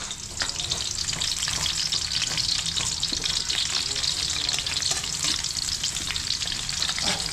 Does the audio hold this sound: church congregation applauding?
no